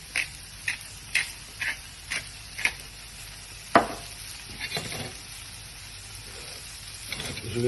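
Jambalaya with chicken fillet, chorizo and shrimp sizzles quietly in a pan while a utensil stirs it, giving about seven soft, evenly spaced scraping strokes, then one sharper knock, over a steady faint frying hiss.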